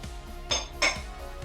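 Green mango chutney being stirred in a dish: a low steady background broken by two short, bright clinks of a spoon against the dish.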